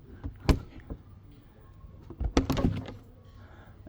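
The garage door of a Chausson S695 Sport Line Trail motorhome gives a sharp latch clunk. Moments later comes a louder burst of rattling and thudding as the door swings open.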